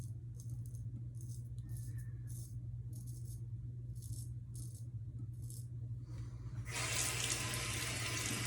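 Tap water runs for rinsing a straight razor, first as intermittent short splashes and rattles at a sink, then as a steady strong gush at the end, close by and without talk.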